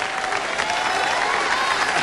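Studio audience at a 1992 late-night talk show applauding steadily, a dense, even wash of clapping with a few faint voices mixed in.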